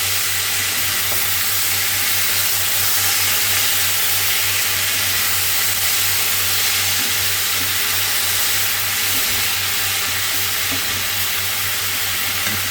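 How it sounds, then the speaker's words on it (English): Chicken fajita vegetables sizzle steadily on a hot griddle while two metal scrapers stir and toss them, a loud, continuous hiss of frying with faint scraping beneath. "So now I'm using both scrapers. Actually kind of treating this like a stir fry right now."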